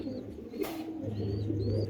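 Pigeons kept as breeding pairs coo softly in a steady low murmur, with a brief burst of rustling partway through and no voices.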